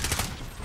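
A rapid burst of automatic gunfire in the Call of Duty Warzone video game, several quick shots packed together and then a short tail, fairly loud and close.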